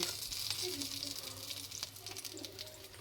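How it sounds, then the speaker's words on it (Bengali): Homemade snacks fry on low heat in a covered pan, giving a soft, steady sizzle with faint crackles, quiet and close, with a voice talking over it. "অল্প আঁচে ভেজে নিব আমি নাস্তাগুলো"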